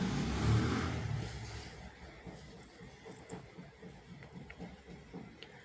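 Sewing machine running a straight stitch around the sleeve of a 34-inch-chest blouse, a rapid rhythmic clatter after a louder start, close and moderately quiet, with no speech.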